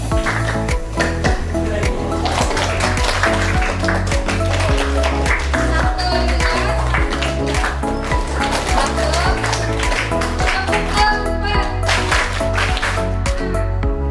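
A group of students at a school leadership training camp clap in counted rhythmic patterns, loud and close, with sharp repeated hand claps over voices in the background.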